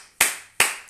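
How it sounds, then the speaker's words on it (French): Two sharp hand claps about 0.4 seconds apart, loud and close, each with a short ringing tail, on their own without talk. "On va applaudir pour toi"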